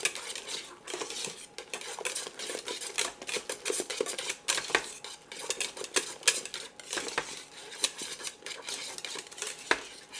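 Potatoes being mashed by hand the old-fashioned way, close and busy, with irregular clinks, knocks and scraping against a bowl that come in quick uneven bursts, with no talking.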